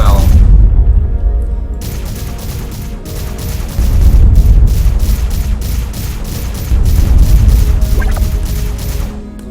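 Ship weapons blasting asteroids in Starpoint Gemini 2, a run of loud repeated booming impacts and crunching hits in quick succession, continuing with brief pauses.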